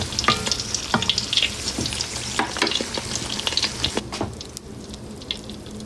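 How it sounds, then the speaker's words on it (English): Pork fat renders down into lard in a pot, giving a steady, close sizzle and bubbling crackle, broken by knocks and scrapes as a utensil stirs it now and then. "I'll be watching it all day and stirring it every now and then till it fully renders"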